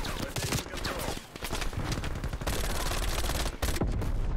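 Rapid automatic gunfire from a MAC-10 fills a Call of Duty Cold War match, dense and loud bursts of shots running almost without pause over a short stretch.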